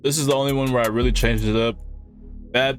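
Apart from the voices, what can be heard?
No everyday noise stands out behind the speech.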